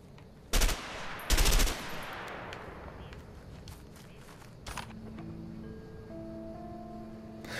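Gunfire in A Way Out: two sharp, loud shots, the second a short double crack, ring out over a quiet room tone, followed by a fainter distant report and low humming background.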